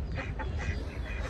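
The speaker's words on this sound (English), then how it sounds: "Feeding ducks." Ducks being fed by a rock give a few faint, soft quacks over steady low outdoor rumble.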